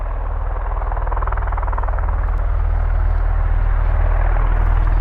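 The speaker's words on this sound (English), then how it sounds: "Let's see if this Osprey is going to start to taxi fairly soon." V-22 Osprey tiltrotor engines running on the ground at RAF Mildenhall, a loud continuous low rotor rumble with pulsing throb, steady and close throughout.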